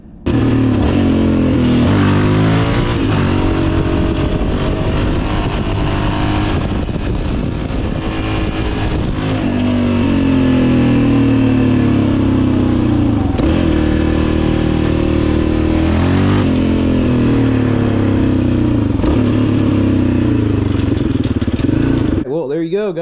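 Motorcycle engine revving and accelerating through a wheelie, loud and continuous with rising and falling pitch sweeps as gears shift, close to the rider, with wind rush throughout.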